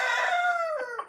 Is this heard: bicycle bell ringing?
no